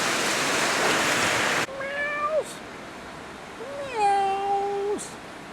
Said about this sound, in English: Meows.